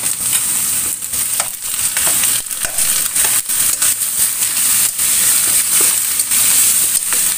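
Chicken fries in rendang spice paste, a continuous close, loud sizzle broken by repeated scraping and stirring strokes at an uneven rhythm.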